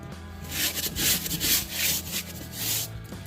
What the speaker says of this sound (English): Right now you're seeing the gentle scrub.